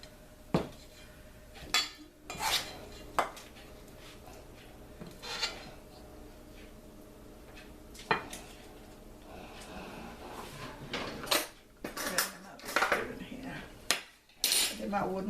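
A big spoon scoops flax muffin batter into muffin pans, with scattered metallic clinks and scrapes against the tins, quiet in between and busier toward the end, with no talking.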